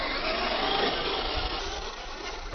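A Traxxas Slash 2WD RC car motor runs at a skatepark, a steady buzzing whine held at full throttle for a couple of seconds, moderately near, ending in a brief sharp knock.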